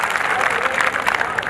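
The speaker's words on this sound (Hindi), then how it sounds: "सारे मिलके एक बार जोरदार ताली नहीं बजाए" A hall audience at a Hindi comic poetry gathering breaks into steady, dense applause, the clapping filling the whole moment at an even, lively level with no voice on top.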